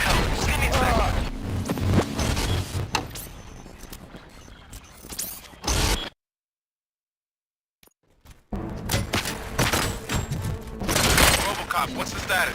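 Bursts of automatic gunfire and impacts in a Robocop video game, dense and loud, cutting off into a couple of seconds of silence before the shooting resumes just as heavily.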